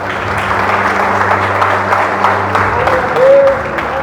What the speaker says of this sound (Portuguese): Eu queria que quem tem mãos aplaudisse a Jesus.